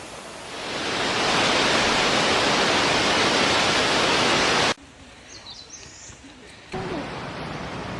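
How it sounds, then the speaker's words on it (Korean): Rushing water of Ongae waterfall on a mountain hiking trail roars as a loud, steady broadband wash, then abruptly drops to a quieter background with faint bird chirps before the roar returns near the end. "온개 폭포를 지납니다. 시원한 물소리 들어보세요."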